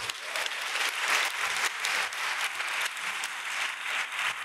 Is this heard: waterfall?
no